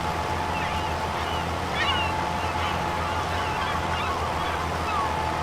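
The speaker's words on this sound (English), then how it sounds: "I can hear seagulls in my right ear from outside of the bloody window." Seagulls calling, some from outside a window and some from a video game, their squawks scattered over a steady background wash, with someone talking throughout.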